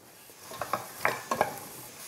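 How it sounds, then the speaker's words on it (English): Faint, close sizzling of vegetables frying in olive oil in a pan, broken by a few light clinks and scrapes of stirring. "You hear it starting to sizzle."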